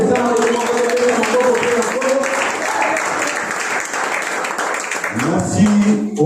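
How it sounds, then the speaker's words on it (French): A church congregation applauds during a Sunday service, a sustained loud wash of clapping with a voice talking over it and a brief sung or spoken phrase near the end. "Il y a quelqu'un qui peut applaudir le Seigneur."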